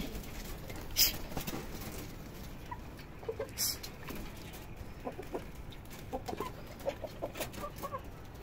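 Chickens clucking and pecking at scattered cooked rice on a damp rooftop after rain, with soft pattering scratches and occasional louder calls throughout.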